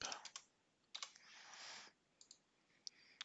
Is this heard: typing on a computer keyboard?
yes